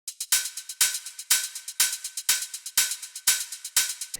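Hi-hat drum sample in a mix, struck in a steady repeating pattern of eight crisp, bright hits with short decays, loud and close with no voices.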